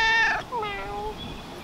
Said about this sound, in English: Yeah, you're a good kitty cat.